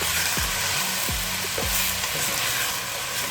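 Onions braising in about two tablespoons of oil give a steady, close sizzle, with a few low knocks from a utensil early on and no voices.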